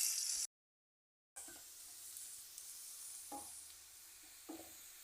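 Garlic fries in a pan for pickle while being stirred, a faint, soft sizzle with occasional light clicks of the spoon, broken by a brief silent dropout early on.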